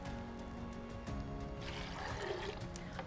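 A cup of water pours into a high-speed blender already holding cashews, a steady close liquid splash and trickle that shifts in tone as it fills, over faint kitchen background noise.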